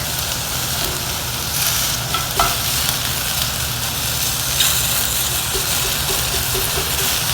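Fresh tomatoes cooking down in a pan for a no-salt sauce, a continuous loud sizzle and bubbling with faint occasional clinks of stirring, close up, no talk.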